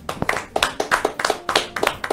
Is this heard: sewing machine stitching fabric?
no